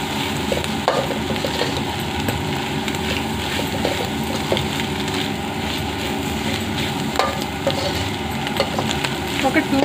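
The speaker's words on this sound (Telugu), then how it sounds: "ఒక 2 minutes వీటిని ఇలా బాగా ఫ్రై చేయాలి." Spices and vegetables being stirred and fried together for egg noodles, a constant close sizzle overlaid with repeated scraping and clattering stir strokes, loud, with no talk.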